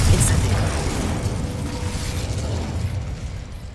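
A Confringo blasting spell from Hogwarts Legacy bursts with a loud initial pop, then a rumbling explosion decays over a few seconds.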